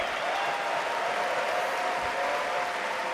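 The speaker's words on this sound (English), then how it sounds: "give a round of applause to everyone that submitted for the short film contest this year" Audience applause at The International 2025 Dota 2 esports event, a dense, steady wash of clapping from a large crowd filling a big arena, sustained at an even level for the whole few seconds with no voices on top.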